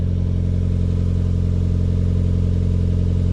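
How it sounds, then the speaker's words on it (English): A 1998 Opti Aerodown Beex Turbo with a mild exhaust idles steadily, a close, even low drone with a fine pulsing throb and no other sounds. "that exhaust is very mild. At idle, you can barely hear it"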